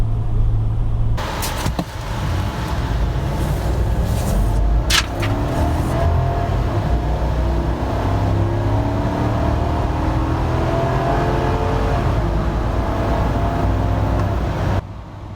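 A gas engine of a 2020 Chevrolet Silverado 2500 LTZ pickup hums and climbs steadily as it accelerates from inside the cab, with road rumble underneath and a few brief clicks early on.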